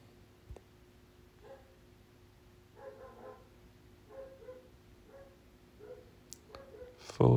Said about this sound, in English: Sorry about these super annoying barking dogs.